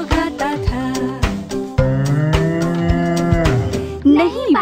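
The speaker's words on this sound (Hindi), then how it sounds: "नहीं बाटलीटो, ये गाय की आवाज है।" Cartoonish cow moos in a children's nursery rhyme, drawn-out lowing calls sounding loud and close over a bright musical backing.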